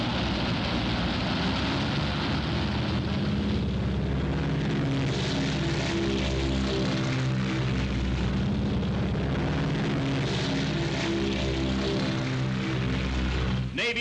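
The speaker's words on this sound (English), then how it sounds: "Navy planes roared from the decks of our carriers" A heavy, continuous roar of Navy propeller warplanes and bombers, loud and droning without pause, passing low overhead during the Battle of Midway.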